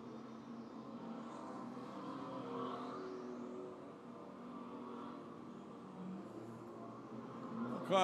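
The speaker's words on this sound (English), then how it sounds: "Pick it up again, the lead car as they come around." Stock cars race around an oval track, their engines a steady, distant, blended drone that swells slightly as the pack comes around.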